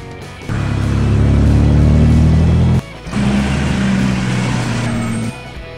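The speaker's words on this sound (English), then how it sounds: "Grand touring car." A grand touring car's engine revs loudly in two sustained bursts with a brief dip between them, close by and with no one speaking.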